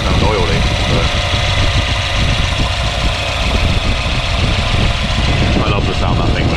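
A Volvo 940 Turbo with a small rocker cover oil leak idles steadily nearby, a continuous low engine rumble with a faint rhythmic knock throughout, while someone talks over it.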